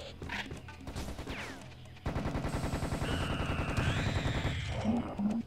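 Rapid gunfire bursts in the Serious Sam: The Second Encounter shooter, loud and dense, with a sharp onset midway and repeated cracks continuing to the end, under game music and effects.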